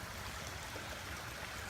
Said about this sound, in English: we're standing near this brook and the water is flowing